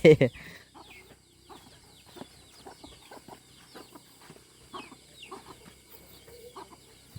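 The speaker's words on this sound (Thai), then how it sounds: "โอ้ไก่กับพ่อไก่" Chickens and a rooster cluck in a rural village: a loud squawk opens, then a steady run of short, scattered clucks from several birds nearby, with faint people talking in the background.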